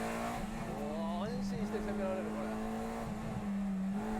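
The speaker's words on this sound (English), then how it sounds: "Just give a listen to the VTEC orchestra at work." A Honda VTEC engine revs hard on a race track, the rising and falling pitch of its gear changes sweeping through the laps under a constant roar, with commentators talking over it.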